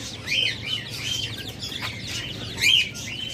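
Busy, overlapping chirps and tweets from many caged doves and quails, including Australian doves, steady throughout with a couple of louder bursts, over a low background hum.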